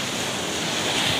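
Sea waves wash along a seaside shore in a steady, broad hiss, with wind buffeting the microphone and no voices over it.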